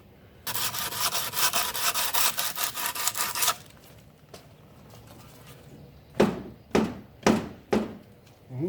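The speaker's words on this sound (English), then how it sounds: "These are medium 3M sanding blocks, and then this is 60 grit sandpaper." Medium 3M sanding block with 60 grit sandpaper rubs back and forth in quick rhythmic strokes for about three seconds, then pauses, followed by a few separate heavy thunks and scrapes close by.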